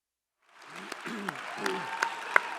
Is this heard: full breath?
no